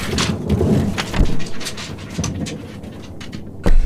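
Thunderstorm sound effect with heavy rain pattering loudly and continuously, broken by several deep thunder rumbles and a sharp crack near the end, no talking.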